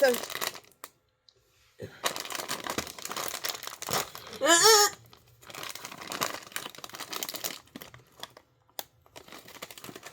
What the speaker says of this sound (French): Mais on va essayer des ciseaux